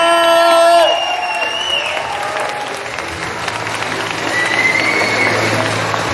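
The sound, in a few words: audience applause at a convention panel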